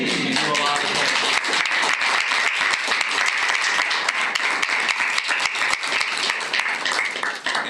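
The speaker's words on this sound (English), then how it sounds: "we need to give a round of applause to their families" Sustained applause from a large school board meeting audience, dense and steady throughout with scattered voices mixed in, fading slightly at the very end.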